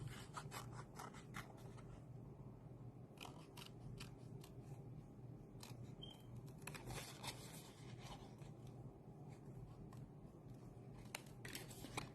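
Scissors snip through designer series paper in quick, crisp cuts over a steady low background hum, close and fairly soft.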